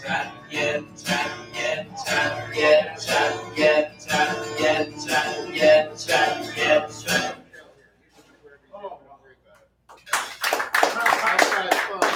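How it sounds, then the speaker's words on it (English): Audience clapping in a theatrical, mock-tabernacle show: rhythmic claps under a voice for several seconds, a brief hush, then a fresh loud burst of applause near the end. "A round of applause, ladies and gentlemen"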